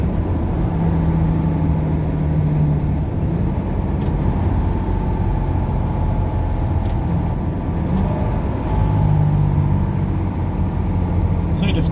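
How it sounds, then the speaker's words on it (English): Car approaching and passing on a highway between Albany and Boardman, Oregon, a steady road rumble with engine drone that swells slightly toward the end, heard from inside a vehicle with no talk over it. "See the speed this car's coming up though."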